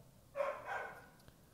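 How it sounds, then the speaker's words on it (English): A dog barks a couple of times at moderate distance, a short burst of yapping that fades out, with no talk over it. "This dog better stop barking."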